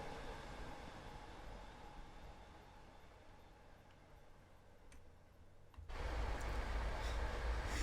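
Train running on rails in Train Sim World 5 on the Boston to Providence line, a steady rumble with faint rhythmic ticking clicks, swelling louder near the end.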